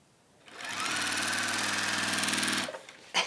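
A sewing machine runs steadily for about two seconds, stitching a seam on a waxed fabric warmer, close and loud with a fast even whir that starts and stops cleanly.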